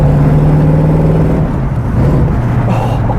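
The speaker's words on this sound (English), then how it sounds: "Just listen to that exhaust." A 1969 Ford Mustang's exhaust drones loud and close while cruising, its engine note holding steady, dipping briefly, then rising again over a continuous rumble.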